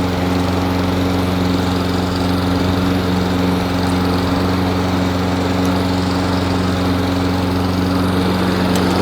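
A STIHL RM 655 VS walk-behind lawn mower runs at full throttle with full ground speed, a steady, loud engine drone with even humming tones holding unchanged throughout, no voices.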